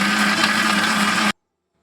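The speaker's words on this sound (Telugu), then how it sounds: "ఇప్పుడు మిక్సీ వేసుకుందాం" A kitchen mixer grinder whirs loudly, blending dates, raisins, nuts and banana into a milkshake, then cuts off abruptly after about a second.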